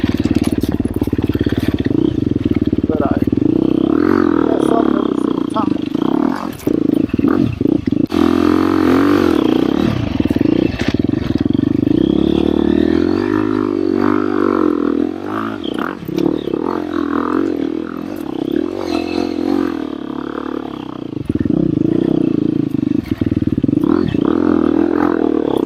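A KTM 350 XCF Factory Edition dirt bike engine revs and roars continuously on singletrack trail, loud and close, rising and falling with throttle and gear changes.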